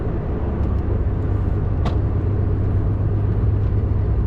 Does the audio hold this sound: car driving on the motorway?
yes